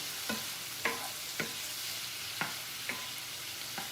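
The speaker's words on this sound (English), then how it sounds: "I'm going to let that cook for just a second to get the garlic" Garlic, three cloves, cooking in a pan alongside smothered chicken, with a steady soft sizzle and a handful of sharp stirring scrapes spaced about half a second to a second apart, no voices.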